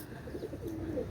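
Rampuri pigeons give a soft, brief cooing call, faint and close, lasting about a second.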